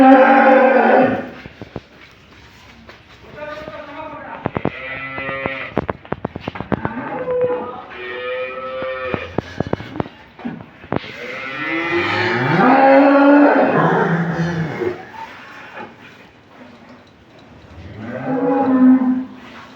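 Dairy cows at a cattle market in Bangladesh give repeated long, loud moos, several overlapping calls spread across the stretch with short pauses between them.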